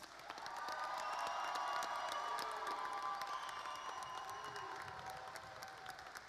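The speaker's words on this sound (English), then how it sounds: "Can we give our 2021s a round of applause?" A graduation audience applauds its graduates with dense, sustained clapping and scattered cheers and whoops, steady and lively from start to finish, heard from a moderate distance.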